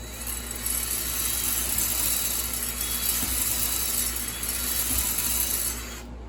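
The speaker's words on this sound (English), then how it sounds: "now what we're doing is just taking the glaze off the cylinder" A ball hone whirs inside a STIHL MS362 chainsaw cylinder, removing the glaze with a loud, continuous, gritty grinding hum that holds steady and then cuts off at the end.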